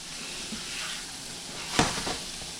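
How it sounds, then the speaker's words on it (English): Chopped garlic sizzling in a butter mix in a pan for Cajun shrimp deviled eggs, a soft steady hiss with a brief stirring scrape partway through. "I'm gonna get all this mixed around, get it started cooking in this butter mix that I made"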